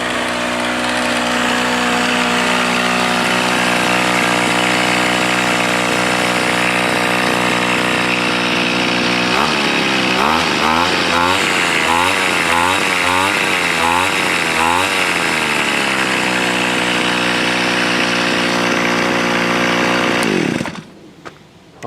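A Toro TC4000 string trimmer's two-stroke engine runs on its own, loud and steady at close range, with a brief stretch of wavering revs midway before it cuts off near the end.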